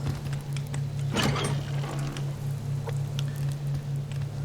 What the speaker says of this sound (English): it's started to tip it down with rain